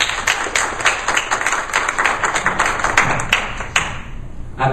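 Audience applause at a book presentation, steady dense clapping from a seated crowd lasting the whole stretch, fairly close and loud with individual sharp claps standing out.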